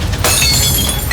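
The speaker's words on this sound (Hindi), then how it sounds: "नीचे गिरते ही ग्लास एक तेज आवाज के साथ टूट गया" A drinking glass knocked off a table smashes on the floor, one sharp, loud shatter with bright tinkling shards trailing off briefly; no voices.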